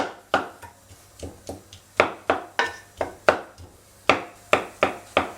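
Root vegetables are smashed for mash by hand without a masher, giving a series of sharp, close thuds and knocks in an irregular rhythm, about a dozen distinct hits with short pauses between.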